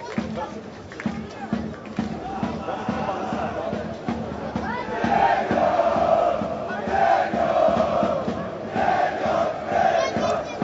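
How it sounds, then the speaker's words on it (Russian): Football supporters of Slutsk and BATE fill a Belarusian league stadium with a loud, continuous crowd roar and rhythmic chanting that swells toward the end, with a commentator talking over it. "Послушайте борисовских болельщиков."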